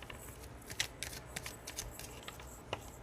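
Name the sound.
shuffling tarot cards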